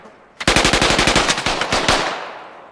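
A loud, close burst of automatic gunfire in the video game Squad: roughly fifteen rapid shots over about a second and a half, then a fading reverberant tail.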